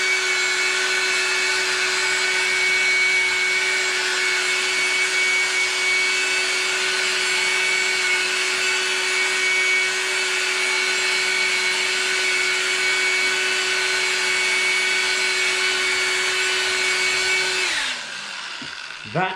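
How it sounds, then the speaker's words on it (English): A rotary polisher runs at a steady speed just over 3 with pressure, working out deep scratches on the rear door of a BMW M140i; a loud, continuous motor whine holds nearly unbroken until it spins down at the end. "I'm just going to put my speed up to just over 3, which will introduce heat, and I'm going to polish this out"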